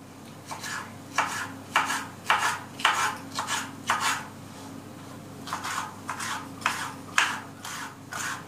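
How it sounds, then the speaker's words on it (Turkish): A knife julienning bell peppers on a cutting board, with a series of quick, crisp chopping strokes coming in bursts at close range. "iki tane dolmalık biberlerimizi ben şöyle jülyen olarak doğrayacağım"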